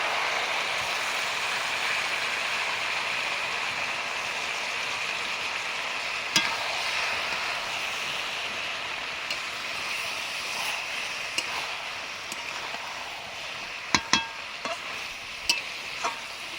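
A ground paste of cumin, dry chilli and mustard fries in a pan of tangra fish oil jhal, giving a steady broadband sizzle with a few sharp pops and spatters toward the end; no voices.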